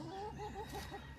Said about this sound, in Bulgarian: Това е някоя друга кокошка, която е страхлива.